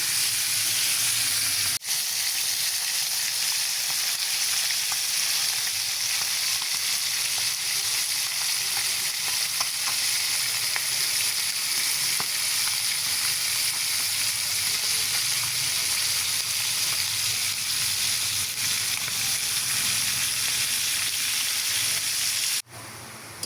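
Fish fry in well-heated oil with a dense, continuous sizzle held up close for the whole stretch, steady in level, with a couple of brief clicks and no voices.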